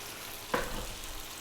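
Chicken stock poured into a hot stew pot of chicken and potatoes, a sudden splash and hiss over a steady low sizzle of cooking, short and close.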